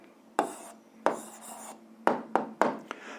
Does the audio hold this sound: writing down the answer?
yes